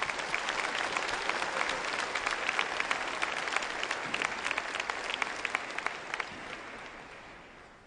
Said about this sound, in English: address us with a warm round of applause